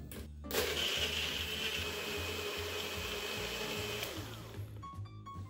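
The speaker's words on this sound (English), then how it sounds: "We are going to blend this. Until it is smooth and creamy." Countertop blender whirring through a peaches and cream protein shake with ice, a loud steady motor drone with churning texture that runs for several seconds, then cuts off abruptly near the end.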